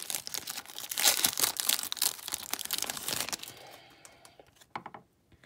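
Loud crinkling and tearing of a plastic trading card pack wrapper, dense and continuous, then tapering into a few quieter crinkles and a final snap.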